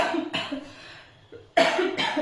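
Two or three harsh coughs from one person nearby, with a quieter breathy pause between them.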